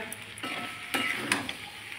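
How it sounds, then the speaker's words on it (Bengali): Food seasoned with ground black pepper is stirred in a pan on the heat: a soft, steady sizzle broken by a few quick scraping strokes of a utensil against the pan. "এ দেখো ভালো করে নাড়বে যেন নিচে না লেগে যায়"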